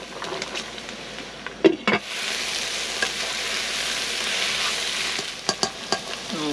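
Garlic and mushrooms frying in a pan, a steady soft sizzle with a few clinks of a utensil stirring against the pan, heard close and alone.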